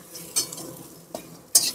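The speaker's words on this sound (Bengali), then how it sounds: "দিয়ে সব কিছু একসাথে খুব ভালো করে মিশিয়ে নেব" Puffed rice snack tossed with sugar in a pan, three short scraping stirs of a spatula against the pan over a faint sizzle, quiet and close with no voices.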